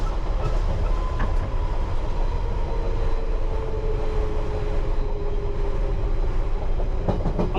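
London Underground Piccadilly Line train running on a downhill gradient, heard from inside as a steady loud rumble with faint wheel clatter and occasional squeals, no talking.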